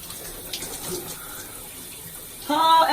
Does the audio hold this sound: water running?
yes